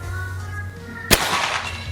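A single sharp crack from a PCP Predator OD 38 air rifle with an upgraded slug barrel fires once midway through a quiet outdoor background and decays quickly into faint ambient noise.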